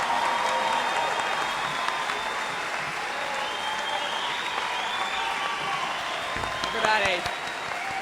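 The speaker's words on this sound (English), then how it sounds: "Please join me in a final round of applause" Commencement audience applause for graduates of the College of Professional Studies at Alfred University, a broad continuous clapping roar with a voice speaking briefly near the end.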